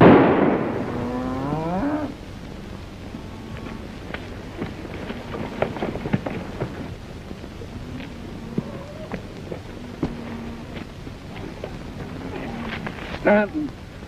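In a 1944 Western film, a cow lets out a loud, drawn-out moo at the start. Quieter rustling and scattered clicks follow, and a short sharp bang comes near the end.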